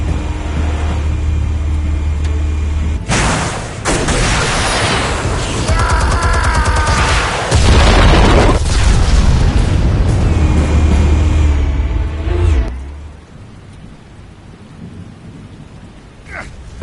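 Loud, deep rumbling explosions from the Telltale Batman video game roll in heavy bursts, one after another, before fading to a quieter background.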